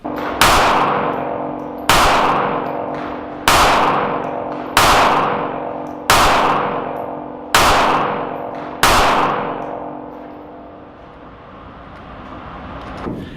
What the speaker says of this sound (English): It's a very smooth shooting gun, as you can tell from here.